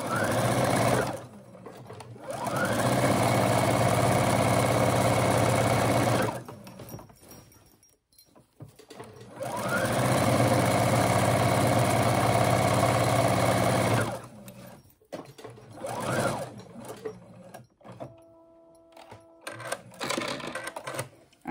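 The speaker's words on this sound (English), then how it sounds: "I am done top stitching my zipper" A sewing machine top stitches along a zipper on a fabric stuffy storage ball, running in two long steady bursts with pauses between, then short stop-start stitches near the end.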